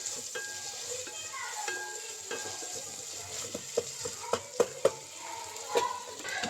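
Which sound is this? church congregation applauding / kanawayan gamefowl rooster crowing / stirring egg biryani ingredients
stirring egg biryani ingredients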